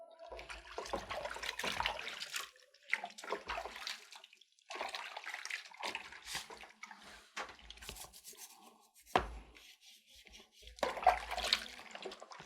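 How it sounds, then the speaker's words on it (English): Water splashes and trickles as feet and nails are washed during a pedicure, in irregular quiet pours and drips with brief pauses, faint and close. "And you always remember to wash the nails."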